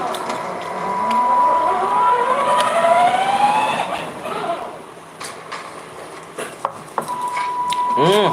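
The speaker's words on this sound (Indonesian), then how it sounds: "Bang suara motor apa tuh bang? Lagi main mobil-mobilan anak gua." A child's toy car running nearby: a rising, whining electronic siren-like tone sweeps upward and repeats, with a steady beeping tone, under intermittent voices talking.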